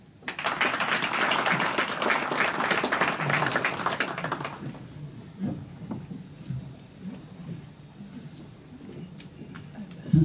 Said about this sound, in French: et on l'applaudit.